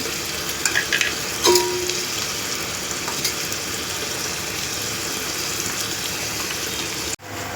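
Chopped onion frying in a pan for a prawn gravy, a steady broadband sizzle running throughout with a few brief clinks near the start and a sudden cutoff near the end.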